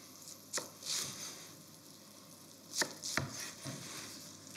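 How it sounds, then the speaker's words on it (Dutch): Knife roughly cutting Belgian endive into quarters on a board, a few separate crisp chops with gaps between them, close and fairly quiet. "En gewoon gaan we dat witloof zo in vier snijden."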